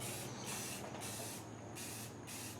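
Bursts of fine, hissing clear-coat spray from a paint gun on a 2002-2006 Honda CR-V roof, pulsing on and off in several passes with short gaps between them.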